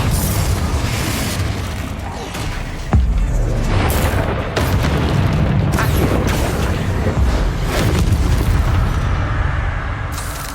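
Confringo fire-spell blasts in the video game Hogwarts Legacy, cast at spiders in a loft, land as a run of loud, heavy booms and bursts with rumbling debris, and a voice comes through between the impacts.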